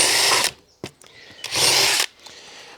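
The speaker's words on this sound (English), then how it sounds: "I'll now drill all the way through using my drill bit number 10" Power drill boring all the way through with a number 10 bit, two loud sustained bursts of whining, grinding drilling separated by brief pauses and a sharp click, close up with no talking.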